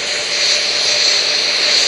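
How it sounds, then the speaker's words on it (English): Sound suppression water pours across the Artemis rocket launch pad before liftoff, a steady, loud broadband rush and roar that holds without a break and with no voices. "Sound suppression water is flowing."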